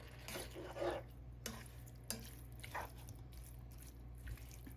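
Mushrooms being stirred into a pot of vegetable soup, with a few faint scraping, clinking strokes over a quiet background hum and low bubbling. No one speaks.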